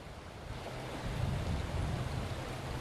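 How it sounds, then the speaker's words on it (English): Babbling brook water flowing steadily at a state park, a continuous broad rushing wash with no breaks, moderately loud and close. "over on this side, we've still got this nice babbling brook here"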